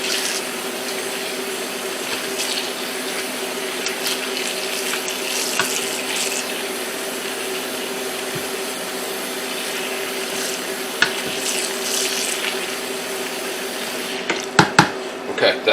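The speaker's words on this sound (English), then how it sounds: "I'm going to add enough water so that everything will be covered in water." Water runs steadily from a tap into a bucket of tomatoes, a constant rushing splash with a few small knocks near the end.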